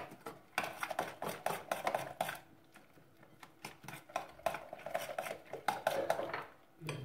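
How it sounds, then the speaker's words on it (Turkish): Spoon scraping and clinking against a bowl while stirring ground almonds and walnuts, a steady run of close, rhythmic scrapes and taps with brief pauses. "Karıştırıyorum"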